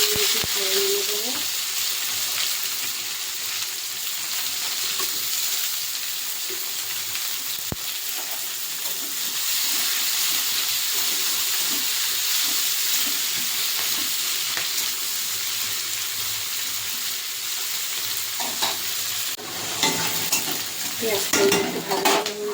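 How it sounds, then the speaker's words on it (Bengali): Onions frying in mustard oil with black cumin seeds in a pan, a continuous close sizzle with occasional stirring scrapes and light utensil clinks, growing busier near the end. "দুটো পেঁয়াজ ফোড়ন দিয়ে দেবো"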